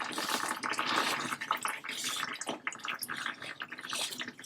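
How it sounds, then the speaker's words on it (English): Engine oil from the drain of a 2023 Honda HR-V with a 2.0L engine trickles and drips into a catch can, a continuous wet splattering patter, close and uneven, with no talk over it. "Make sure your catch can is right under it. Let it drip a little bit."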